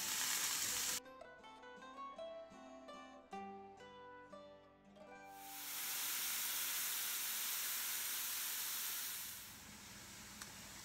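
Chicken Marsala meatballs with chives frying in a pan make a soft, steady sizzle lasting a few seconds, preceded by a short run of faint melodic tones.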